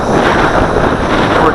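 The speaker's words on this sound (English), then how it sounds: "This is an extreme wind." Strong wind roars and buffets the microphone outdoors during a drone flight on a very windy day, a loud, continuous rushing blast.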